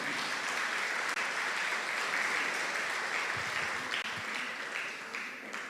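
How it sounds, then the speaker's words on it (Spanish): A church congregation applauding during a sermon: steady, dense clapping from many hands that fills the room evenly and stays loud throughout, easing off slightly at the end. "Demos un aplauso al Señor"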